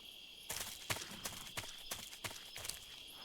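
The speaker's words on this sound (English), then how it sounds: "I hear a horse." Horse hooves in Metal Gear Solid 3 clop in an even walking rhythm, about half a dozen fairly quiet strikes with no voices.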